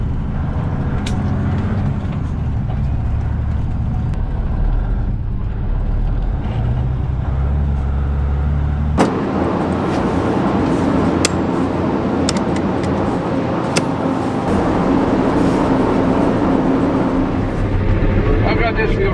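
A tractor pulls a grain cart between fields during an Ohio fall harvest, its engine droning steadily and close throughout, shifting to a rougher, brighter roar partway through, with clicks and rattles on top.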